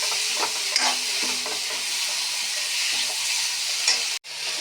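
Sliced drumsticks (moringa pods) fry in a pan with green chillies, giving a steady loud sizzle broken by occasional scraping stirs and a brief clatter near the end.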